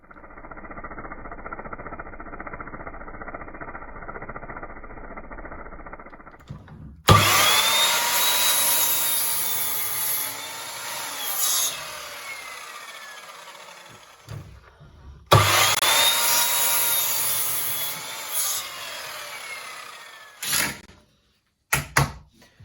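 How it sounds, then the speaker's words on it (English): Power drill boring holes into a wall for wall plugs in a workshop, two long loud whirring runs of several seconds each, with quieter handling noise before and between, and no talk. "we'll drill these out, and then we'll put raw plugs"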